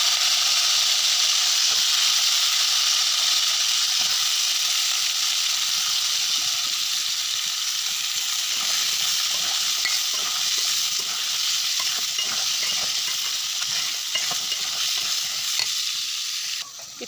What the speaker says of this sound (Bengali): কাঁঠালের বিচিটা ভেজে নিব